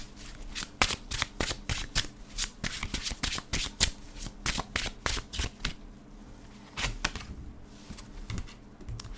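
Tarot cards being shuffled by hand during a reading make close, crisp riffling clicks in rapid, uneven bursts that continue almost throughout, with a short lull before they resume.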